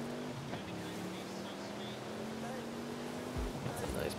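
Porsche engine drone in Forza Horizon 5, a steady sustained tone holding through the clip with a slight pitch rise, blended with background game noise.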